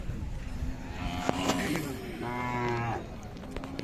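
A Khillar cow at a cattle market in Sangola lets out a drawn-out moo mid-clip over a busy outdoor hum, with people talking nearby.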